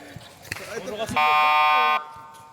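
A basketball game time buzzer sounds once, a loud steady electronic tone lasting under a second, after a burst of excited shouting and court noise.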